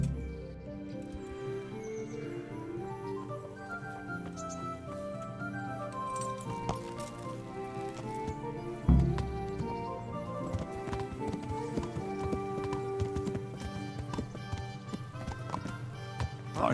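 Horse hooves clip-clop in the medieval role-playing game Kingdom Come: Deliverance, a steady walking rhythm sitting quietly under a swelling orchestral score.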